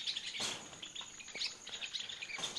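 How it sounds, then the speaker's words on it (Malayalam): Birds chirping in trees around an aviary at night, several faint scattered tweets and short calls over a quiet background, with no talk. "നിങ്ങൾക്ക് കിളികൾ കരയുന്ന സൗണ്ട് കേൾക്കാൻ പറ്റുന്നുണ്ട്"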